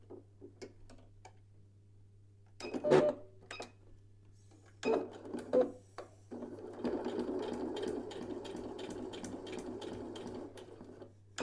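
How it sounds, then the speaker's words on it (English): A sewing machine stitches a row across a fabric bookmark, first a few separate clicks and short bursts, then a steady whirring run of stitching for several seconds over a constant low hum, close and moderately loud. "just sew a row of stitches."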